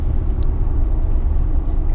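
A 2011 Ford F-150 XLT 4x4 truck engine runs at a steady, smooth, low rumbling idle close by, with no talking heard.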